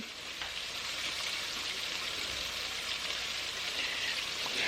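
Steady, dense sizzling and crackling of floured chicken pieces frying in hot oil, close and continuous, growing slightly louder toward the end.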